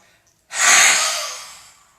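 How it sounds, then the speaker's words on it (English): A single deep exhale during a breathing exercise, a loud close breathy rush of air that starts abruptly after brief silence and slowly fades over about a second and a half. "And last, inhale in, and exhale out."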